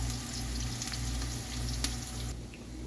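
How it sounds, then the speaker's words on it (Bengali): Onions frying in hot oil in a pan for Saudi kabsa, a steady close sizzle and crackle with a low constant hum underneath and no talking. "প্রথমে পেঁয়াজগুলো ব্রাউন কালার করে ভেজে নিতে হবে।"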